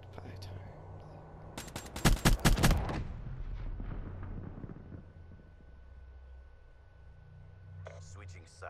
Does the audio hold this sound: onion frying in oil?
no